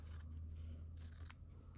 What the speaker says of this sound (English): So I'm actually literally going to cut this off now. And my scissors.